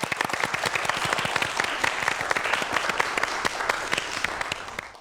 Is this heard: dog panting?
no